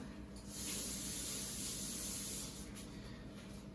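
An egg frying in a hot pan, a steady bright sizzle and hiss that swells and holds, then eases slightly.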